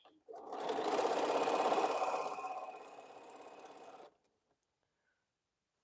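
Sewing machine stitching quilt rows in one continuous whirring run of about four seconds, close and steady, stopping abruptly into silence.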